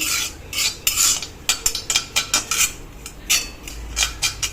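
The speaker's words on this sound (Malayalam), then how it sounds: "ഈ ചീനച്ചട്ടിയിൽ കുറച്ച് ചൂടുണ്ട്. അതുകൊണ്ടാണ് നമ്മൾ ഇളക്കിക്കൊണ്ടിരിക്കുന്നത്." A metal spoon scrapes and clatters in a hot pan in quick, uneven strokes while curry leaves roast for a dry chutney powder, close and distinct, with no talking.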